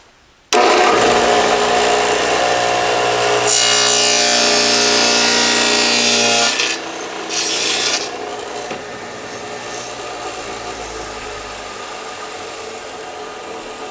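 A dado stack blade on a 12-inch table saw cuts through oak plywood: a loud, steady whining roar that swells heavily mid-cut, then drops back as the blade spins on alone.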